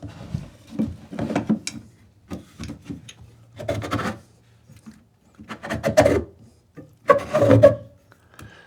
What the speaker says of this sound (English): I'm going to have to also sand the outside of it a little bit